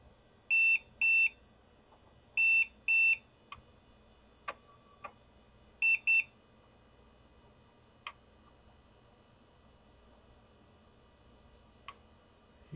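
A Compaq Deskpro 2000 Pentium Pro desktop computer emits short paired electronic beeps in three groups, mixed with faint clicks and ticks from the machine in a quiet room, with no talking.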